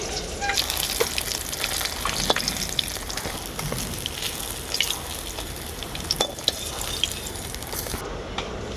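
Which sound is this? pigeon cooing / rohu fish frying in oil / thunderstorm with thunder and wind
rohu fish frying in oil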